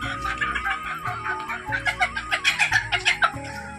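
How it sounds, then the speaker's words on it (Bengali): A flock of chickens on a village poultry farm clucks and squawks up close, busy overlapping calls that build into a quick rhythmic run of clucks, with no one talking. "এই দেখো মুরগি, কত মুরগি"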